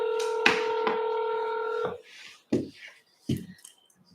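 Touch-tone keypad tones sound during a phone call: a steady multi-tone beep runs for nearly two seconds, with short key presses before and after it. A faint voice and a few clicks come in afterward.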